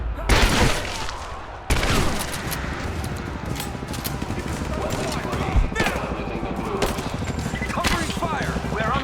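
Heavy, rapid gunfire from a firefight in the Rise of the Tomb Raider video game rattles in sustained bursts with loud booms, mixed with shouting voices.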